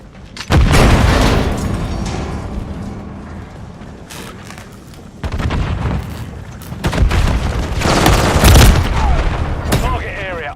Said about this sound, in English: Throwing a stun grenade. Taking fire!